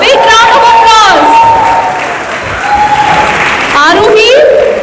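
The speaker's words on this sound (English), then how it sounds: "Big round of applause." An audience claps steadily at a Rajyotsava 2025 cultural stage event welcoming a five-year-old performer, with a host's amplified voice speaking over the applause throughout.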